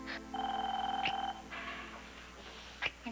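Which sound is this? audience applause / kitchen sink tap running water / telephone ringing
telephone ringing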